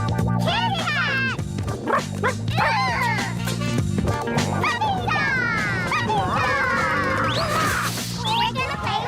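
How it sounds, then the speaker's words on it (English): Cartoon puppy yapping and whimpering in a busy animated scene, short high barks and whines repeating over music and voices, loud and close throughout. "We're gonna play with the puppy dog"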